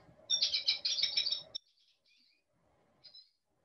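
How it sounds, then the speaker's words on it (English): A small goldfinch gives a quick run of bright, chirpy calls, close and clear, followed by a pause and then a single faint note. "that's our little goldfinch that we see in Birds Hill Park"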